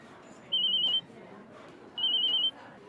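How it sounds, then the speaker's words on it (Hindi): A telephone ringing indoors in a Hindi TV sitcom scene, two steady electronic ring bursts about a second apart over quiet room tone. "आपका फोन बज रहा है।"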